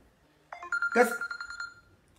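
A telephone rings with a short burst of repeated electronic ringtone pulses, fairly close and clear, lasting about a second and a half.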